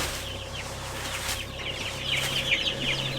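Young chicks, meat birds and egg layers, in a chicken coop, peeping and clucking in quick bursts over a low steady hum, fairly close and with no talk.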